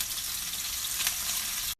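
Chicken frying in oil in a Ballerini skillet gives a steady, close hiss and crackle of sizzling fat that holds even throughout, then cuts off abruptly at the very end.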